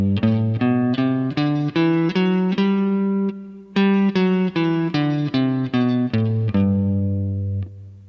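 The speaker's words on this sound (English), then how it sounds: "The 7-tone major scale features half steps and whole steps and sounds like this." Single guitar notes climb through the seven-tone major scale and then descend, each note plucked cleanly at an even, steady pace with no voices over it.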